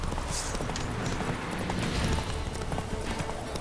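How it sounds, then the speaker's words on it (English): A horse gallops steadily along a road in The Witcher 3, its hooves beating a continuous clip-clop rhythm that stays close and clear across the whole stretch, with game ambience beneath and no talking. "Esto de dejar pulsado el botón y que el caballo corra solo por el camino es una maravilla"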